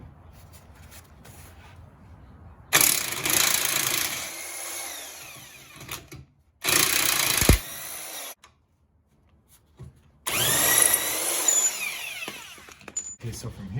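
A 17 mm impact wrench rattles in several loud bursts on a rear control arm bolt of a 2014-or-later Mazda6, with pauses and quiet stretches between runs of the tool.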